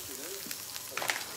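Eggs frying in butter in a pan give a steady, close sizzle with a few faint crackles and soft stirring touches, no voices.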